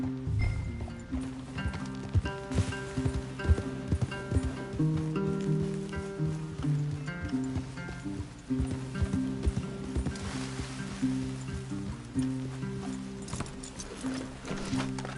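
Horses move in the Red Dead Redemption 2 video game, repeated hoof clip-clops and animal movement over a steady ambient game soundscape with faint tonal music, continuous and moderately loud throughout.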